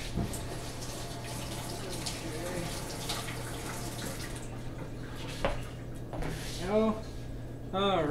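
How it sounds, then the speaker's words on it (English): Tap water runs steadily into a kitchen sink while hands are washed, a close continuous splash with brief changes in the flow, and someone speaking near the end. "I'm gonna wash my hands real quick."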